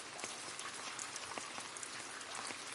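Summer rain falls steadily and softly, scattered droplets pattering on a surface in a continuous quiet hiss with no voices.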